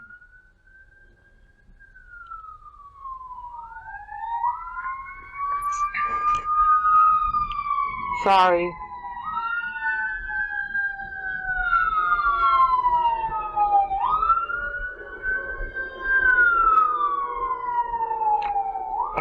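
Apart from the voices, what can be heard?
police siren passing near a police station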